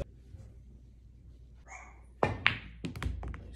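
Pool balls are struck during a shot in a casual game, a couple of sharp, close clacks followed by softer knocks after a quiet lead-in.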